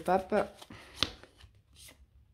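Tarot cards handled and drawn: a few brief papery shuffles and snaps, close and soft, interleaved with someone speaking.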